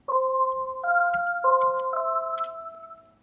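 A synthesized Christmas bell run through chorus and short delays, rate set to zero: a few clear, sustained bell tones struck one after another, ringing steadily with a bright shimmer and fading at the end, with no talk.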